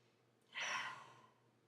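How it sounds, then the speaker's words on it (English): Single deep, airy exhale during an EFT tapping session, close and soft, rising quickly and trailing off gently in an otherwise quiet room. "Take a breath."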